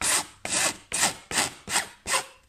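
A hand file works along the edge of a wooden kitchen worktop in six steady, evenly spaced rasping strokes, each a close, bright scrape that fades before the next, with no talk.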